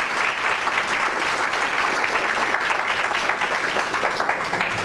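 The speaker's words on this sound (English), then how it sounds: "I'll just pretend you're clapping for me" An audience at a school district board presentation applauds in a dense, sustained wash of clapping that stays loud and even throughout, with no gaps.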